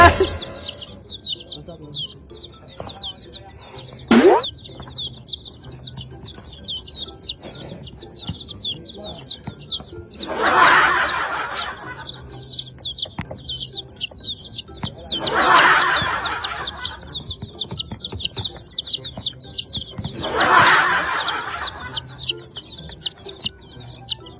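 Young chicks in their enclosed playground chirp constantly in a dense, high twittering chorus, with a few louder clucks and rustling bursts rising every few seconds.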